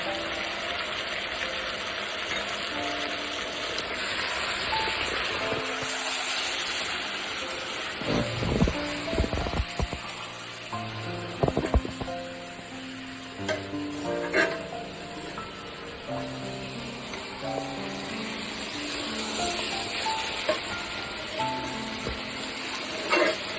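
Spices being stirred and fried in a pan for a tangra fish curry with potatoes and stems: a continuous sizzle with clattering spatula scrapes that cluster in the middle, close and moderately loud.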